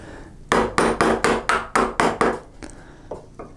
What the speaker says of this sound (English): And for these first couple chops, I use the hammer.